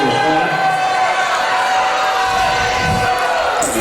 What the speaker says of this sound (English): Fans are booing, they didn't like it